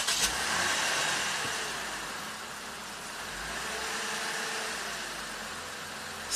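A 2008 Lexus IS250 with no throttle response and a power steering relay fault fires up and settles into a steady idle, a broad continuous engine hum that stays close and even, with no one talking.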